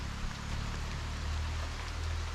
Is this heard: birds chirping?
no